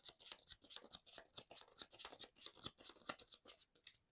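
Marvel Champions playing cards are shuffled into a deck, a quick run of soft, papery riffling clicks repeating in a steady rhythm, close and quiet, with no talk.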